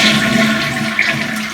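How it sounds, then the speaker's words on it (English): A toilet flushes with its handle held down, a steady rushing of water close by that carries on without easing off, no voices over it. "we're going to flush the toilet, but hold the knob down"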